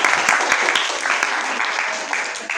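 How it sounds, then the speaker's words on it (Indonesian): Classroom applause for a student discussion group, a dense spell of clapping from a small class lasting a couple of seconds, close and fairly loud with a murmur of voices underneath. "Tepuk tangan dulu buat kelompok Jaki."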